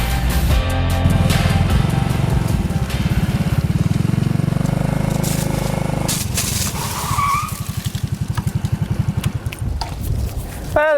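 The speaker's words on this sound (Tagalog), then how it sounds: "I had a lot of fun riding the Suzuki Raider J Crossover" A 2021 Suzuki Raider J Crossover motorcycle is ridden off-road, its engine droning steadily and close up under wind rush, then breaking into a rapid pulsing putter toward the end.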